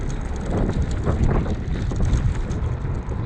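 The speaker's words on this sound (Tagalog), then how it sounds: "Parang mahangin kasi ngayon, mahangin yung ano, baka sunstorm mamayang umaga." Strong wind buffets the microphone during an early-morning scooter ride in Kuwait, a steady loud rumbling roar with gusty fluctuations filling the whole stretch and no voices.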